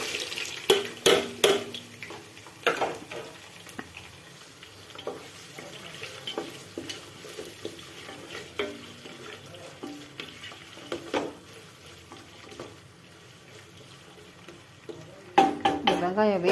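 Onion and green chili frying in a pan for a village-style mutton biryani, with an intermittent sizzle and stirring, clustered utensil clatter early on and a loud burst of crackling near the end.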